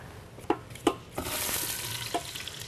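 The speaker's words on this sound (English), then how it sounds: "So you want to hear that sizzling sound." Potatoes sizzle and crackle as they fry in hot oil, with a steady close-up hiss. A few sharp taps of stirring come early, then the frying noise swells and carries on to the end.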